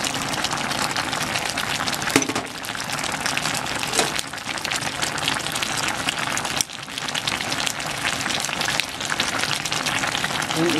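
Bitter gourd (ampalaya) goes into a pan of half-cooked vegetables for abraw and fries, with a dense, steady sizzle and crackle plus a few faint clinks and stirring knocks.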